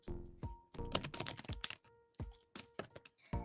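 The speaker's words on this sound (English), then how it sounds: "I'm shuffling for you now." Tarot cards being shuffled by hand in a series of quick, crisp riffling and tapping bursts with short pauses between, close and fairly loud, with a faint tonal hum underneath.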